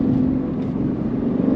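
A Ford Mustang's engine and exhaust hum and rumble steadily at close range, a continuous low drone with slight wavering and no talking.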